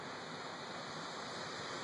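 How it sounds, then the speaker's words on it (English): Waves on Lake Michigan near the dunes wash in a steady, soft, continuous hiss of surf, with no talking. "And can you hear the waves on the water?"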